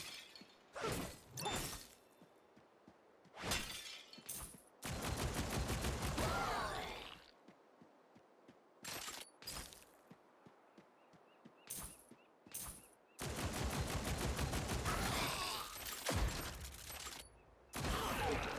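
Gunfire in the Surfpunk roguelite hack-and-slash demo: repeated loud bursts of rapid shots separated by short quiet gaps, with crashing impacts and no talk.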